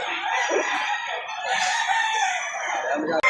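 A 10-month-old SBR rooster at a Lipa City poultry market crows nearby with a long, loud, strained call while people chatter and other fowl sound around it.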